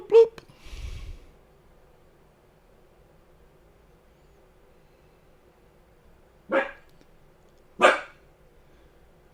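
A dog barks three times, once at the start and twice close together near the end, with long quiet stretches between the barks.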